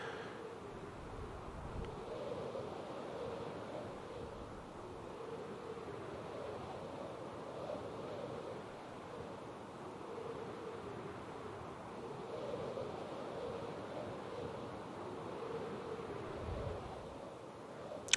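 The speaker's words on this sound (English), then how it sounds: "The wind noise will increase the faster you go." Steady, soft rushing wind while flying with wings over water in hardcore vanilla Minecraft, a continuous airy whoosh that swells and eases gently, with no talking.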